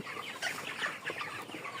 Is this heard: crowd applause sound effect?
no